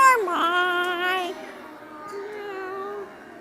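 Voices imitate a cat's meow to say goodbye at a children's storytelling session, a long drawn-out meow followed by a softer, quieter second meow.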